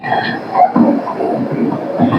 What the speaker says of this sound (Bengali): আই ডোন্ট নো এটা কি ট্রেন ঢুকছে